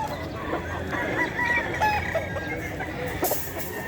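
A young bull stag rooster at a busy pet market clucks and makes short throaty calls amid crowd noise and other birds in the background.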